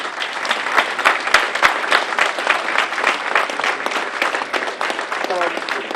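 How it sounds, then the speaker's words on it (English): Audience at a State of Ward 7 community meeting applauds precinct committee members, a sustained burst of many hands clapping close and fairly loud throughout, with a voice faintly under it near the end. "give them a round of applause, please"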